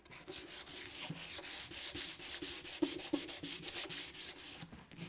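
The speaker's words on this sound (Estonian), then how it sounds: "Ja pikipuidusüüd lihvime siis kogu selle puiduosa" Sandpaper worked by hand along the grain of an old wooden window frame during restoration, a rhythmic series of close, raspy back-and-forth strokes with no talking.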